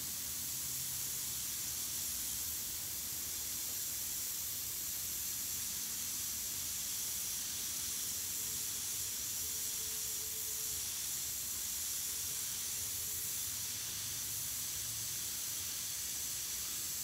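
An airbrush sprays paint onto a shirt, giving a steady, even hiss that runs unbroken for about seventeen seconds at moderate loudness with no talking.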